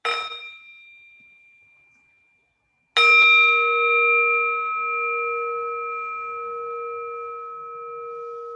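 A meditation bell rings twice during a Buddhist dharma talk. A first short strike fades into silence, then a second clear strike rings out and sustains with a long, slowly decaying resonant tone.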